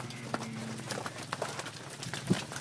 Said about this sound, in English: he's just shifting these cows off the pad